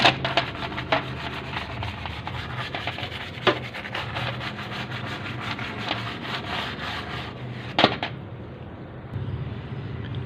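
A brush scrubs dust off a computer keyboard part during servicing, giving a steady close scratchy rubbing with a few sharper scrapes and a brief pause near the end.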